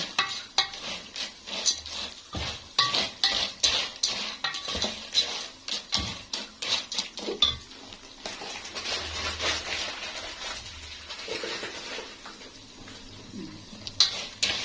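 A utensil stirs pasta and vermicelli browning in oil in a pot for Egyptian koshari, giving repeated metallic scrapes and clinks against the pot in an uneven rhythm over a soft sizzle.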